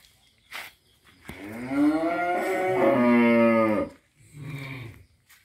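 A young bull of about nine months on a cattle farm in Ben Tre lets out one long, loud, drawn-out moo close by, with softer grunting snorts just before and after.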